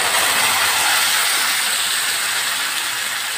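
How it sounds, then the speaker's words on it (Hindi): Onions and masala frying in a pan for a pea and potato curry, a loud, steady, bright sizzle that holds unbroken throughout with no voices. "इसको मैं अच्छे से भूनूँगी।"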